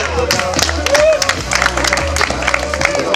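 Clapping and crowd noise at a BMX contest in Mölln as winners are honoured, a continuous dense patter with an announcer's voice over it.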